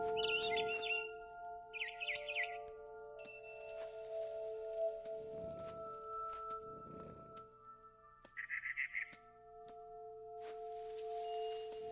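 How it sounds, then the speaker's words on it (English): A barn swallow in the video game What Remains of Edith Finch gives short chirping bursts against a quiet ambient backdrop of steady tones and soft rustles. The chirps are moderately faint and heard without any talk. "Then I heard chirping outside my window. It was a barn swallow going back to her nest."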